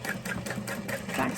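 A sewing machine back stitches through a tote bag, making a fast rhythmic chug of repeated needle strokes, close and continuous.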